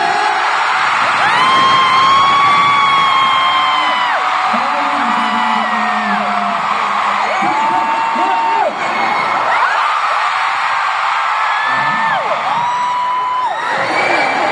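A fancon audience of fans in Manila cheering and screaming continuously, loud high-pitched whoops and shrieks rising and falling in waves throughout.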